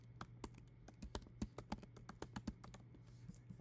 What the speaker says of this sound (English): if I type in an email that I already know exists